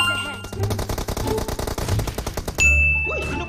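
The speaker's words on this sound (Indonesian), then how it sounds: "Apa yang lama sangat dia tembak kau." Rapid gunshots crack in a shooting video game, a fast rhythmic burst of loud shots with metallic pings and a sharp ding near the end, with brief talk over it.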